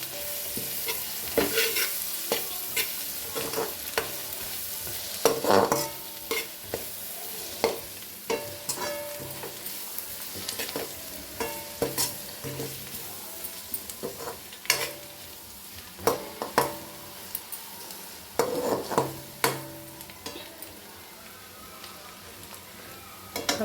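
Sliced onions with ginger, garlic and salt are stirred in a hot frying pan, a steady sizzle under a run of irregular scraping strokes from a spoon, close up and with no talk.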